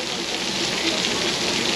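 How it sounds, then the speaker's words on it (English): Artificial rain pours down on a Universal Studios Hollywood backlot, falling as a steady, loud, dense hiss of large drops striking surfaces nearby, continuous with no break and no voices. "Drops are about 3 times larger than the regular raindrops that can be captured on film."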